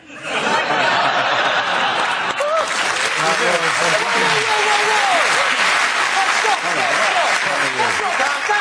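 A studio audience on a comedy panel show bursts into sustained, loud applause that swells quickly and holds steady, mixed with scattered laughter and a few voices talking over the clapping.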